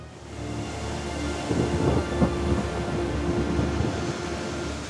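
Heavy rain pours steadily as a dense broadband roar, with a low rumble swelling briefly midway, like distant thunder.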